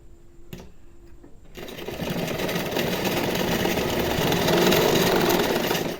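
A sewing machine runs a stitch down the centre of a hook strip: a few quiet starting clicks, then a steady, close, whirring motor with rapid needle chatter that holds for several seconds.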